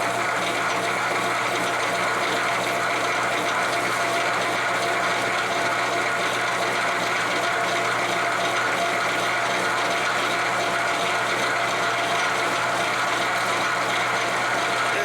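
A metal lathe turns slowly in back gear while a medium coarse knurling tool presses into the workpiece under plenty of oil, giving a steady, continuous mechanical whirr with a faint repetitive ticking, close and alone.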